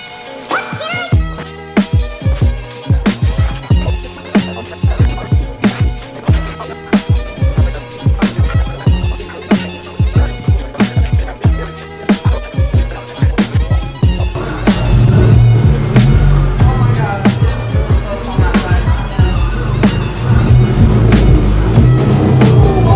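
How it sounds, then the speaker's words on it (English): Repeated close scraping strokes of a broom sweeping debris across a garage floor, a steady rhythmic swish, growing denser and louder toward the end. "I'm just gonna sweep all this shit up that's been under it for the past month"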